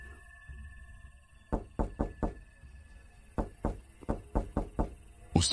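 A door knocked on in a horror animation on a moonless night: two bursts of sharp, loud raps, first a group of four, then after a pause a longer run of about six, over a low eerie ambient drone.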